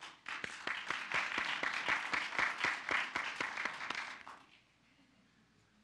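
An audience at a community talk and question session claps steadily for about four seconds, a dense patter of hands that stops fairly abruptly and leaves quiet room tone.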